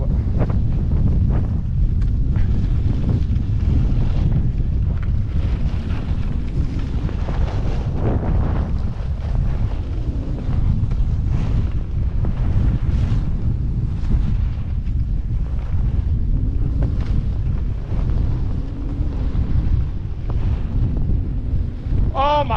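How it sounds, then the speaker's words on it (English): Strong snowstorm wind while skiing roars and buffets the microphone without letup, a loud, dense rumble that fills the whole stretch, with breathy gusts rising and falling. "I was getting pelted with snow. The wind was hitting me."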